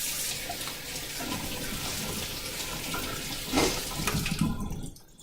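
Tap water runs steadily into a kitchen sink while fruit is washed, a close, continuous splashing flow that shifts slightly near the end and then cuts off.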